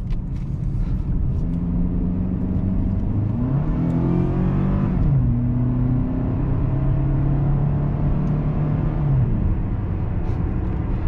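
A 2003 Toyota Camry LE's 2.4-liter four-cylinder engine, at 200,000 miles, revs up steadily as it accelerates, the pitch rising through gear changes with a constant road rumble underneath.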